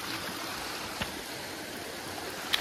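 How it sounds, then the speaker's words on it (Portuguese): Small stream running down from the Jaraguá hills in Goiás, a steady soft broadband wash of flowing water with a faint click or two, heard alone. "é o corguinho que desce lá da serra de Jaraguá aqui"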